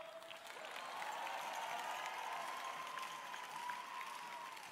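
A distant arena crowd at a FIRST robotics championship in Houston applauds and cheers in a steady wash, with a faint sustained tone running across it, fairly quiet throughout.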